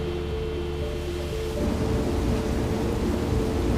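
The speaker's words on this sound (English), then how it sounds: "Steve, can we get some rain in the northeast quadrant, please" Artificial rain falling over a controlled forest inside the Biosphere, a dense steady hiss that grows heavier partway through, with a low rumble underneath and no voices.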